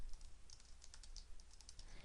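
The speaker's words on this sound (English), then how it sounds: "I am typing that name" Rapid typing on a computer keyboard, a steady stream of light, close key clicks with no talk over them.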